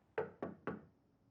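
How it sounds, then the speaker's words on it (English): Three sharp, evenly spaced knocks on a door in a sitcom scene from New Girl, close and clear with no talking. "Jess, you don't have to knock once you're in the room."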